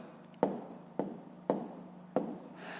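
Pen strokes on paper while math figures are written out, close and quiet, four distinct taps and scratches spaced about half a second apart, ending with a softer rub.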